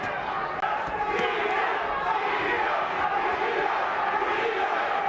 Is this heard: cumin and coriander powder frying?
no